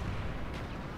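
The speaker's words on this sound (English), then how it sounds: "let's get this napalm strike and mortar team going on" A mortar barrage and napalm strike in Black Ops 2 multiplayer, heard as a brief, dense, continuous low rumble of distant blasts.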